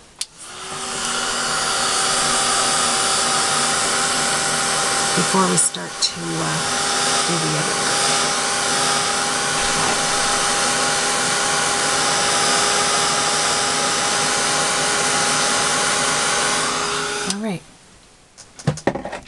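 A hair dryer blows on watercolor paper with a loud, steady whirring roar that dips briefly near the middle and cuts off before the end, while a person talks over it.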